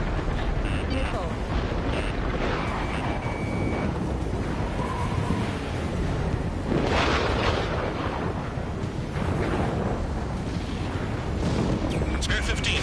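Dense, continuous roar of explosions and missile blasts in the jet combat game Ace Combat 7, loud and sustained throughout with bursts swelling over a constant wash of noise.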